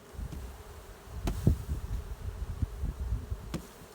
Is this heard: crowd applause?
no